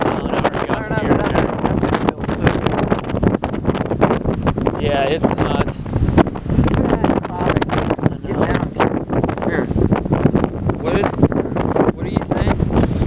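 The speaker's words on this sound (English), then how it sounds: "we're getting like probably a good 50-mile-an-hour gusts here" Strong storm gusts of around 50 mph buffet a field during a severe thunderstorm on the south central Pennsylvania–Maryland border, a loud, continuous roar of wind battering the microphone while a person talks briefly over it.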